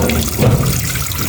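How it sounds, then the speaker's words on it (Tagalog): Steady water running and splashing into a cooking pot, a continuous close pour with a brief heavier gush partway through. "paglagay na ako ng tubig dito"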